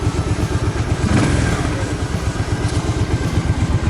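A warm motorcycle engine, just back from a ride of several kilometres, runs close up with a loud, steady, throbbing beat of regular pulses and slight swells in revs.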